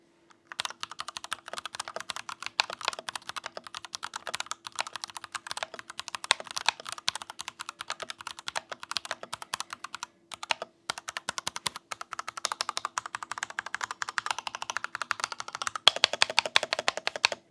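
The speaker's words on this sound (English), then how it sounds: "here is how stock version of this keyboard is sound." Rapid typing on a stock RK61 mechanical keyboard with tactile switches, a fast continuous stream of close, crisp key clicks with one brief pause partway through and no talk.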